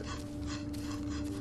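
A dog in the Blair Witch video game gives brief soft whimpers and panting, fairly close over a low hum.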